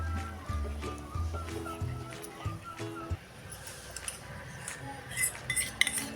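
Spatula scraping and clinking in a pan as gram flour roasts in ghee, with a low steady hum through the first half and sharper metallic clinks toward the end, no speech.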